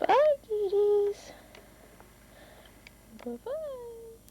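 Cats on a farm meow several times, with a couple of clear rising cries at the start and another near the end, fairly close, amid light background sounds and occasional human voices.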